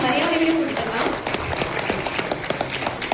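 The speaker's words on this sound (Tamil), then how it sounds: "அவங்களுக்கு பலத்த கைத்தட்டல் கொடுத்துடலாம்" Audience at a movie trailer launch event applauding a guest, scattered claps rising and thinning, with a voice talking over the start.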